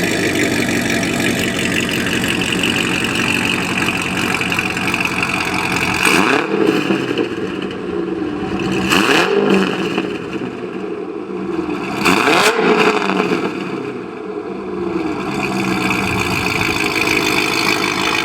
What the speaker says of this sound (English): we're gonna go ahead and show the exhaust clip